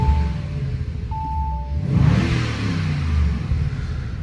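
A Bentley New Continental GT with a 550 hp V8 revs while stationary: a low idle, then one throttle blip swells around the middle before the engine settles back to a steady burble, with no talk.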